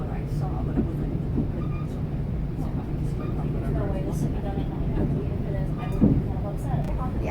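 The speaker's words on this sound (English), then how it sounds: "Here's our train ride." Steady rumble of a train ride, continuous low rolling noise with clattering texture throughout, loud and close as if from inside the carriage, with voices faintly mixed in.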